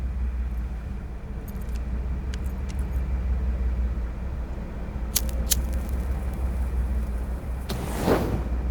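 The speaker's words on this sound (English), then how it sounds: "I'll start the car." A car engine starting in the video game Cyberpunk 2077, a steady low rumble with a few faint clicks and a short rising whoosh at the end.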